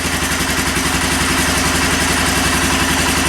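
A Kawasaki Lakota 300 ATV engine idles steadily just after a top end rebuild and valve adjustment, with a loud, even, close-up putter and light mechanical clatter running unbroken throughout.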